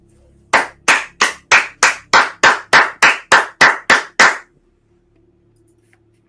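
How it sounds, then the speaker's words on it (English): Twelve sharp hand claps in a steady, even rhythm ring out loud and close, heard from inside a cloud of smoke bombs, then stop abruptly into near silence. "Clapping."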